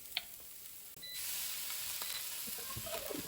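Cumin, curry powder and ginger paste being stirred in a frying pan for eggplant curry, a quiet sizzle rising after a soft knock, with light scraping strokes over it.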